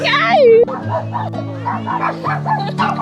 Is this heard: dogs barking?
yes